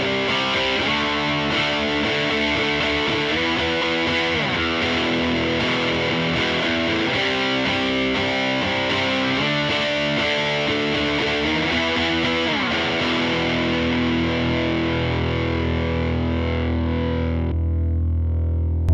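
An electric guitar plays through a Greenbox overdrive pedal on a Fender Tone Master Pro, giving a tight, distorted 80s-style tone with sustained chords and riffs, loud and up front, ending in one held ringing chord.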